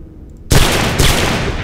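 Burst of gunfire in Fallout 3 as a character shoots at a rubble pile, a sudden loud volley opening after a quiet moment, with a second sharp report close behind.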